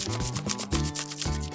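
Green crayon rubbed with pressure across paper laid over pine needles, a steady scratchy scraping in short back-and-forth strokes, close and alone.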